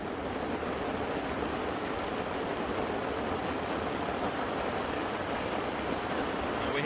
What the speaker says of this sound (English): And now it's raining even harder.